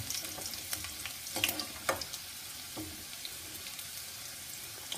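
Garlic fries gently in oil over low heat for a sweet turnip pickle, giving a soft continuous sizzle with a few light spatters and stirring taps, fairly quiet and steady, with no one speaking.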